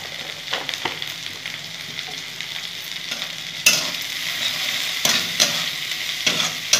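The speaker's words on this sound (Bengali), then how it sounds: "এটা একটু ভাজা ভাজা করে নেবো বন্ধুরা, পেঁয়াজটাকে।" Sliced onion fries in oil with turmeric in a pan, a continuous sizzle broken by sharp scrapes and clacks of a spatula stirring, close and fairly loud, with no talking.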